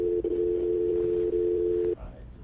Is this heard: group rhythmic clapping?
no